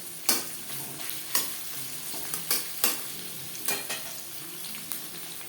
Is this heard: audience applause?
no